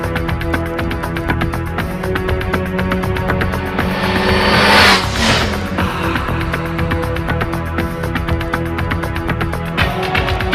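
A 2008 Honda CBR600RR sport bike with a Two Brothers Black Series exhaust runs loud and steady, its engine note buzzing continuously, with a brief swelling whoosh around the middle as it passes close.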